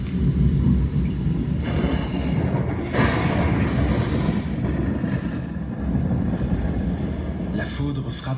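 Thunder from a lightning strike rolls as a loud, sustained low rumble, with several heavier bursts swelling through it and no other sound rising above it.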